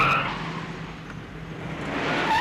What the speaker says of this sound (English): They make their way to the Vegas Strip where they get pursued by the police